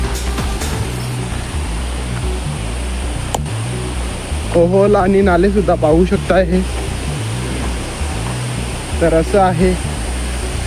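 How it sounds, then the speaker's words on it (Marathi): A constant rushing wash from the Ghogata waterfall fills the background, while someone speaks in two short bursts over the steady roar. "आता आम्ही पूर्णपणे फायनली आलोय घोकाटा धबधब्यावर"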